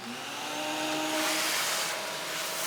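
A vacuum cleaner running steadily with a loud, broad hissing whine and a faint tonal hum, continuous for a few seconds with no voices.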